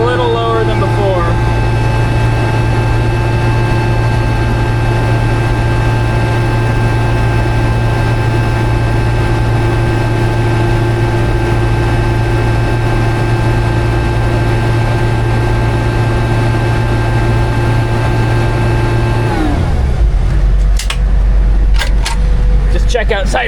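A surplus military Humvee engine under throttle, hot and with low oil pressure, runs as a loud, steady, close drone with a constant low hum and tonal whine, then drops to a lower rumble near the end.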